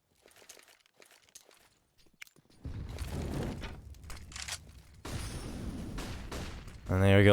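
AK rifle gunfire in a Counter-Strike match on the Inferno map erupts in loud broadband bursts, with rapid volleys that grow denser toward the end after a quiet opening of faint clicks. A caster talks over the shots.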